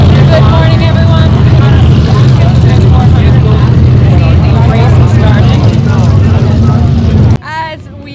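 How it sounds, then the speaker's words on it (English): Off-road race vehicle engines warm up at the Mint 400 desert race, a loud, steady layered roar of idling and revving motors with a low droning hum throughout, cutting off abruptly near the end. "As we see all these guys starting to warm up their engines"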